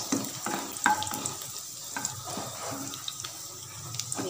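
Dry red chillies stirred with browned garlic in a hot pan give a steady, quiet sizzle broken by scraping stir strokes and light clinks.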